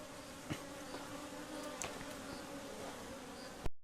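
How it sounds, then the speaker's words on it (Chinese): A soft, steady insect drone from bees flying around a stone vat in a remote Sichuan mountain courtyard, faint and continuous with a couple of brief nearer buzzes, ending in a short bump. "有蜜蜂在飞来飞去的。"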